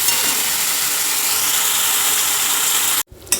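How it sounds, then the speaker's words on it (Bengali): Bombay duck fish sautéing in a pan until the liquid dries off: a loud, steady, broadband sizzle that holds evenly for about three seconds, then cuts off abruptly. "এই যে মাছটাকে কষিয়ে কষিয়ে পুরো একবার শুকনো করে দিচ্ছি"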